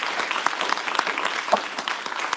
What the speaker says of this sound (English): let's clap it up for all of us today that are here